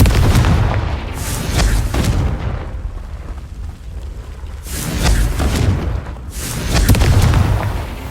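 Booming Confringo spell blasts in Hogwarts Legacy, two heavy explosions about four seconds apart, each with a loud low rumble and crackling burst that fades slowly.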